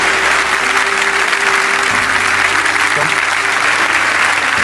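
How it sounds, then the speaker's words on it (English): A large crowd gives loud, sustained applause for Danish football captain Simon Kjaer at an evening event, a thick wash of clapping and crowd noise with a faint voice briefly underneath. "Ladies and gentlemen, a round of applause for the Danish captain with us tonight,"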